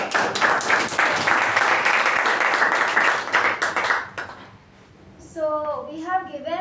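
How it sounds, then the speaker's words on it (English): A club meeting audience applauds a Toastmaster with loud, dense clapping for about four seconds, then it fades out and a voice begins speaking. "Please give it a good applause."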